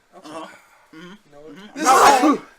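After a few soft voiced breaths, a loud, sharp sneeze bursts out close by, ending the short sequence.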